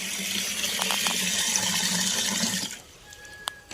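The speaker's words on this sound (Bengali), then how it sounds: "তো গাছগুলো জল দেবো বলে জল ভরছি।" Tap water gushes steadily into a container being filled to water sun-parched garden plants, a loud continuous splashing rush that fades and thins toward the end.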